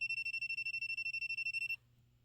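A Klein ET350 digital circuit breaker finder beeps rapidly and continuously, shrill and pulsing about ten times a second, then stops abruptly, leaving a faint low hum.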